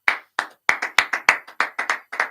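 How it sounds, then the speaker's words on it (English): A small studio audience claps for a guest on a talk show, about a dozen distinct, close, sharp claps in an uneven rhythm with no talking. "round of applause to our guest"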